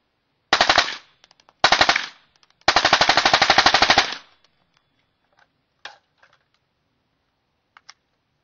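A rifle fitted with an AAC 7.62 SD suppressor fires three quick bursts of sharp, muffled shots, the last and longest lasting over a second, followed by a few faint isolated clicks in near silence.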